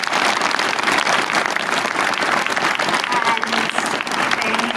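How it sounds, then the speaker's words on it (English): A conference hall audience gives award winners a loud, dense round of applause, many hands clapping steadily for nearly five seconds at close range. "let's just once more give a big round of applause to all the distinguished awardees"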